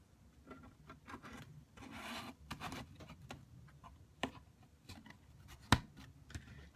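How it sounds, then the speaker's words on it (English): Side panels slid and clicked onto the main body of a Fusion Imaging iPad Mini visor for the DJI Inspire One: close, soft rubbing and scraping with a few sharp, isolated clicks, and no voices. "To attach the side panels to the main body, simply lift it up, slide it in, and click to the side."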